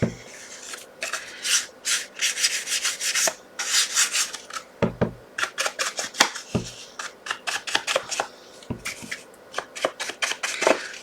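Brown ink being rubbed onto the corners of a handmade card: repeated quick scuffing and rubbing strokes in uneven bursts, close and fairly loud, with small taps in between and no speech.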